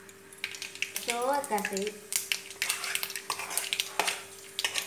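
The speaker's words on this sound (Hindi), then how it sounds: "देखिए तेल पूरा गर्म हो गया है, अभी थोड़ा सरसों डाल देंगे।" Mustard seeds drop into hot oil for a jackfruit masala fry, giving a faint crackling sizzle with scattered pops, while a voice speaks briefly over it.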